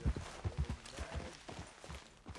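Horse hooves clip-clop in an uneven walking rhythm in the video game Red Dead Redemption 2, a series of close, soft thuds over faint background ambience.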